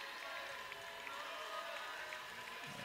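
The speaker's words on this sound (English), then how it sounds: "They're standing up and applauding as the Lady Flames walk to their locker room" Crowd at a women's college basketball conference championship game, Liberty's Lady Flames against Middle Tennessee, applauding as the team heads to the locker room: a faint, distant, steady wash of clapping throughout.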